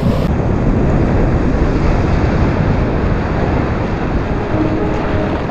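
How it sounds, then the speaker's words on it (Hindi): Sea waves crash on a stone-strewn beach, a loud, continuous broadband roar of surf mixed with wind rumble, with no distinct breaks between surges. "अब जा रहा है लहरों से लड़ने के लिए, खड़े रहेंगे, भागेंगे नहीं लहरों से"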